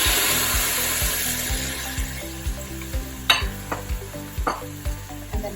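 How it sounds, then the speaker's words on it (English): Tomatoes fry in a pan with a steady hissing sizzle and crackle, broken by a regular run of soft scraping knocks as the pan is stirred. "the sound has changed from like a sizzling to like a crackle"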